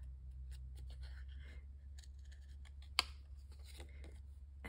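Scissors cut a paper image out of junk mail close by, with small quiet snips and paper rustles over a low hum and one sharper clip near the end.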